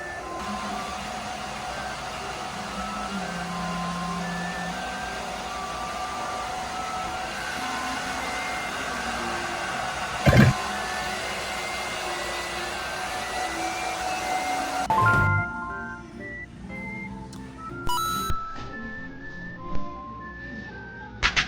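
A hair dryer blows steadily for about fifteen seconds while drying the scalp lightly during a shadow-perm styling, then cuts off, leaving quieter handling noises and clicks.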